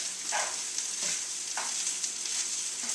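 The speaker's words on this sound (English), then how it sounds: "I'm just gonna go ahead and mix in the rice, just like that." Egg and rice sizzle steadily in a pan for bacon, garlic and egg fried rice, with a spatula scraping and stirring in a regular rhythm roughly every half second, close and continuous.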